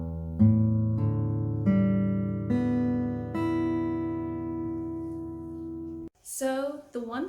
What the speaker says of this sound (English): now it sounds like this when you play all 6 strings from top to bottom